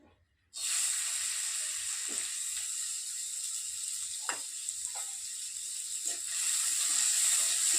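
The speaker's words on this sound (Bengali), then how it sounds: "তেলটা গরম হয়ে গেছে এবার অরহর ডালটা আমি একটু ভেজে নেবো" Arhar dal hits hot mustard oil in a kadai and bursts into a loud, steady sizzle that starts abruptly and keeps crackling, with faint clinks of stirring underneath.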